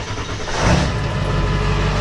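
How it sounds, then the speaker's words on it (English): A 7.3 PowerStroke diesel truck engine cranks and catches, settling into a loud, steady rumble close by. "I'm gonna get the truck started up here."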